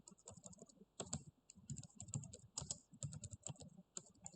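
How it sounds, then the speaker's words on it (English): Rapid, irregular keystrokes on a computer keyboard, close and steady throughout with brief pauses between bursts, no voices. "you type in your full name"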